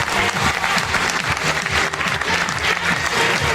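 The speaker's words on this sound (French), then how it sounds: "On applaudit messieurs, dames, s'il vous plaît, pour les encourager." A pageant gala crowd at a Miss Excellence Oise election claps for the candidates in a steady, dense round of applause that fills the hall at close range and is not broken by speech.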